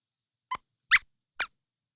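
Three short, high squeaks from a puppet mouse on a children's science show, evenly spaced and sharp, heard alone against silence; the squeaking is likely voiced by a person imitating a mouse.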